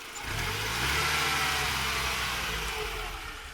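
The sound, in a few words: car engine revving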